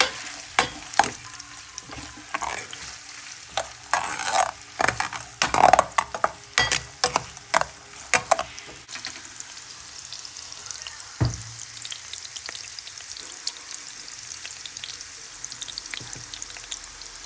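Onions sizzle and crackle in hot cooking oil for fried rice, loud sharp spatters and stirring clatter early, then settling into a steady, softer frying hiss.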